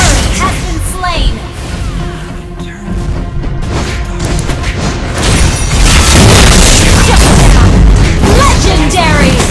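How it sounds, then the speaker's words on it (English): Turret being destroyed in Mobile Legends: Bang Bang, a loud booming crash with bursting, crumbling debris that swells and stays dense through the clip, layered with other game effects and music, no voice in between. "You destroyed a turret!"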